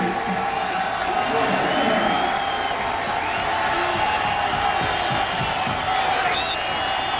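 A college football stadium crowd at a 2004 West Virginia vs UConn game roars on fourth down and inches. The dense cheering is steady and loud throughout, with a commentator talking over it.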